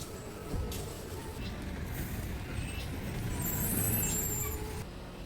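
A KSRTC bus from the Sakleshpur depot, running Dharmasthala to Bengaluru via Hassan, pulls into the busy Sakleshpura bus stand. Its engine rumble swells and the air brakes hiss amid crowd chatter.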